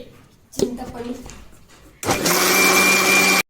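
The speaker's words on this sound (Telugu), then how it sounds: "మిక్సీ పట్టుదాం" A kitchen mixer grinder whirs steadily, grinding turmeric, masala and chili powder for a sprouted horse gram curry. It starts abruptly after some brief clatter and background talk, then runs loud and continuous to the end.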